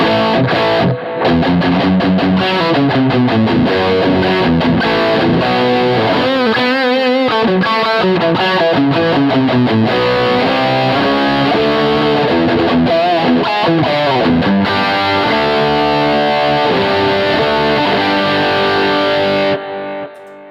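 Loud, saturated electric guitar with heavy amp distortion through a 100-watt Stealth Blue amplifier channel, playing chords and riffs continuously for about twenty seconds before cutting off.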